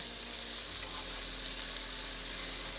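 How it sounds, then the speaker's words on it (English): Vegetables and fresh thyme sizzling in a pan for chicken cacciatore, a dense, even hiss that holds steady and close throughout with no voices. "The idea of cooking this right now is to get a nice caramelized color on the veggies"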